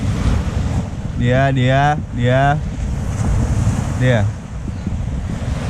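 Broadband wash of ocean surf at a beach in East Java, steady and fairly loud with wind noise on the microphone, while a few people talk briefly over it.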